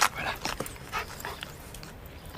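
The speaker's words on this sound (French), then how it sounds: "elle est vraiment sympa, cette chienne" A female dog pants and gives soft whimpers, quick breathy bursts repeating close by with small whines between them.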